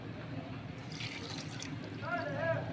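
A cup of water is poured onto two cups of sugar to start a syrup for zalabia or awameh. The water splashes and trickles softly and steadily, with a brief voice in the background near the end.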